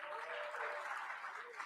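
Audience applause at a large AI hackathon with over a thousand registrants, a steady dense wash of many hands clapping in a room, moderately loud and unbroken throughout.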